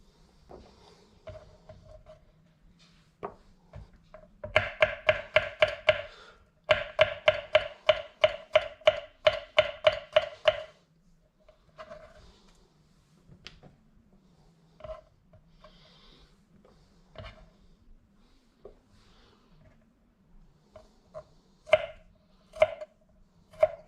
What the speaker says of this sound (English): Cut up a little bit of garlic here.